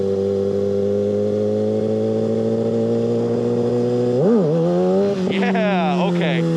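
A 600cc supersport motorcycle engine drones at steady revs, then surges sharply as the front wheel lifts into a wheelie before the throttle is cut and the pitch drops and wavers.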